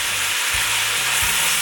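Carrots, celery, onions and sausage sweat in a pot, giving a steady, close frying sizzle with a few soft low thumps from stirring.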